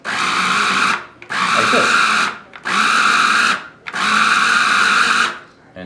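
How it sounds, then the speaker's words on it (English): A blender pulses chicken dumpling filling seasoned with oyster sauce in four loud, evenly spaced bursts of whirring motor with short pauses between them, while a person speaks briefly. "I don't want to blend it too fast and too much, too strong"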